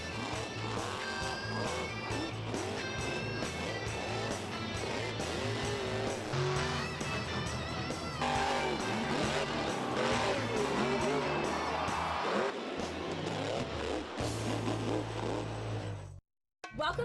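Monster Jam trucks, including a Scooby-Doo truck, race head to head in an arena before a crowd, with engines roaring continuously under loud music and crowd noise before cutting out just before the end.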